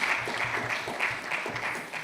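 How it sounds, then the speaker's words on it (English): Applause from the audience at the Ghana Institute of Architects annual general meeting, a steady wash of clapping lasting about two seconds at moderate loudness with no talk over it. "Let's give him a round of applause."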